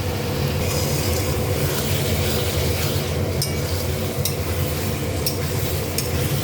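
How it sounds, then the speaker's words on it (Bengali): Soybean and potato curry with tomato, salt, turmeric, cumin and coriander powder sizzling in a pan while being stirred, a steady dense frying hiss with scraping underneath, close and continuous without talk. "সয়াবিনটা দিয়ে ভালো করে কষিয়ে নেব।"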